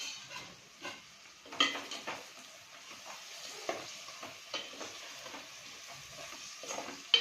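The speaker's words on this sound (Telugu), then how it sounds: "టమాటో స్టార్ట్ అయిపోయింది కుక్ అవ్వడం." Tomatoes and chicken sizzle softly in a pan for Gongura chicken, with a faint steady fry broken by occasional stirring clinks and scrapes.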